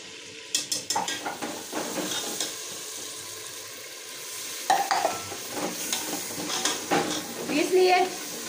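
Food roasting in a pan with a utensil stirring and scraping against the metal, sizzling steadily at close range, with clinks of cookware and short bursts of scraping spread through the clip.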